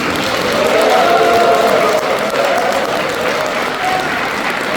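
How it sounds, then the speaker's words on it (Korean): Audience applause for a lecturer at a humanities lecture series, steady dense clapping from a crowd, loud and sustained throughout without any voices. "우리 백지원 강사한테 큰 뜨거운 박수 한번 해주십시오"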